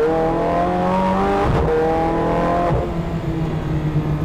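A Zenvo TS supercar engine revs hard on a race track, its loud harmonic howl rising and falling through gear changes, close and ferocious without any voices.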